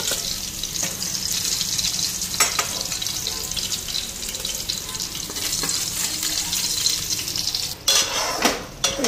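Potatoes frying with spices in a pan sizzle continuously up close, with metal utensil scrapes and clinks of pots near the end, no talking.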